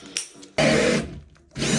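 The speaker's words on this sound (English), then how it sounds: "That's what I need to get with my drilling." A power drill whirs loudly in two bursts, the motor biting with a gritty whine, separated by a brief quiet pause.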